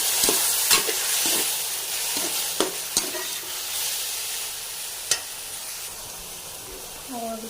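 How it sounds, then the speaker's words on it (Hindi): Red chili sauce is mixed in a hot pan for macaroni; a steady sizzle hisses throughout, with scattered sharp spoon clicks against the pan, some close together. "और इसे करेंगे अच्छे से मिक्स।"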